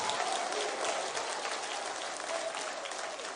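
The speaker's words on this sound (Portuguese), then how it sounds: "Isso, bate palmas e dá glória a Deus." Church congregation clapping during a prayer service, a dense, steady wash of hand claps carrying on for several seconds at a moderate distance, with no voices over it.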